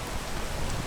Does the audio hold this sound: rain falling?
yes